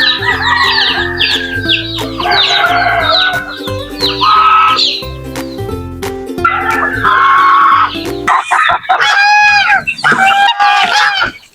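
Pet native chickens and chicks cluck and call repeatedly at feeding time, close and loud, with overlapping bursts of calls and some steady background tones.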